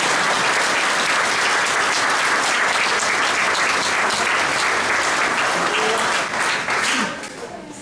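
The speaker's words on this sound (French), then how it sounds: "Donnez un tonnerre d'applaudissements pour le Seigneur." A church congregation breaks into loud, sustained applause for the Lord during a sermon, a dense roar of clapping that keeps going for several seconds and then thins out at the end.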